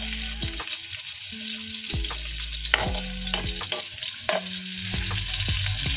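Garlic and carrot frying in a little oil in a pan, a steady crackling sizzle with repeated scraping and stirring strokes, close and moderately loud.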